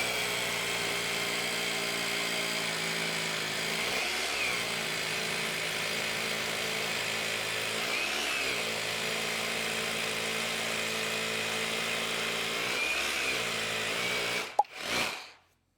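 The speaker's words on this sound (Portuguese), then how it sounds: "Agora é a hora do martelete, bora ver como ele se comporta." A GENAI 21V cordless rotary hammer drills steadily and loudly for about fourteen seconds. The whine dips briefly three times, then it stops with a short clunk and a final whirr.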